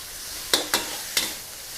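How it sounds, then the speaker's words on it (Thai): Pork and garlic stir-frying in a pan: a faint, steady sizzle broken by three quick, sharp scrapes of the spatula close by. "การจะรวนหมูกับกระเทียมค่ะผัดให้หมูสุก"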